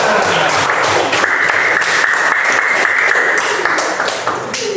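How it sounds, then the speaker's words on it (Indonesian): A classroom of students applauds together in a loud, close burst of rapid clapping that holds steady for several seconds, joined partway through by a sustained ringing tone before the clapping thins out. "Baik, tepuk tangan buat semuanya."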